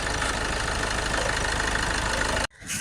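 A used 2012 SX model car idles, its engine giving a steady, moderately loud rumbling hum at close range before abruptly dropping away.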